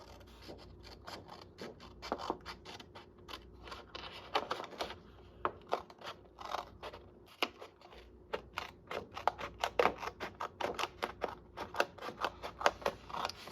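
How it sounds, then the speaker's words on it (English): Scissors snip through paper along a marked line for a crafting project, a steady run of short, close, crisp cuts with brief pauses between strokes, no voice. "you're going to cut this with your scissors"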